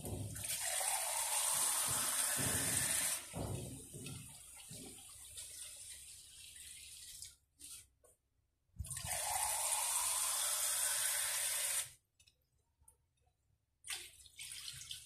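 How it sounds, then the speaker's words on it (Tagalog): Tap water splashes steadily into a cooking pot for squid broth, a loud continuous rush that stops and starts in several bursts with brief quiet gaps between pours. "ngayon po ay lagyan natin siya ng tubig para po sa kanyang sabaw"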